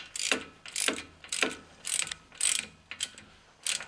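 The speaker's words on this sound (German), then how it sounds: "Wir machen erstmal alle handfest und dann kommen wir mit dem Drehmomentschlüssel." A ratchet tightens bolts on the suspension of a Porsche 944 S2 during a wishbone replacement, sounding as seven or eight evenly spaced, crisp ratcheting strokes, close and clear, with no talking.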